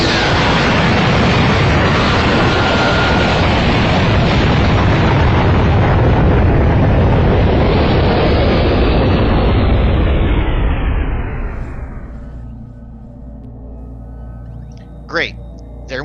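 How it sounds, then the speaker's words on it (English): A massive energy cannon explosion roars as a sustained, loud broadband blast for about ten seconds, then fades and darkens into a low rumble, with a short voice at the end. "There went another energy cannon."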